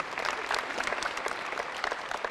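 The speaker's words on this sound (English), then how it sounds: "give him a round of applause" Audience applause at a live comedy-style stage show, a steady dense wash of clapping filling the room throughout, with no talk over it.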